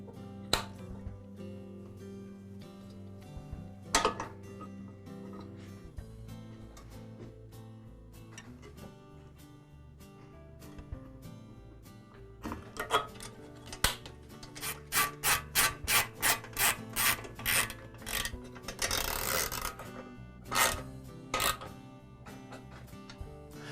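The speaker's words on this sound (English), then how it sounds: "now I'll re-secure the coil with the stud and the bolt" Bolt and stud being tightened to re-secure the ignition coil on a Troy-Bilt lawn mower engine, a close run of quick metallic ratcheting rasps that builds into a dense burst, with quieter scraping and handling noises before it.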